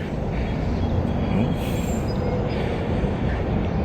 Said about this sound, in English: there's a train on the way